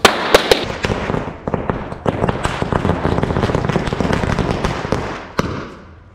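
Diwali sky shot fireworks bursting in rapid succession, sharp loud cracks and pops over a continuous crackling rumble, ending with a final bang and fading tail.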